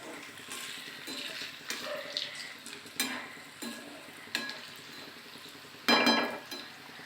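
Green moong fritters deep-frying in oil over high flame, with a steady soft sizzle broken by scraping turns and a louder splash of bubbling near the end.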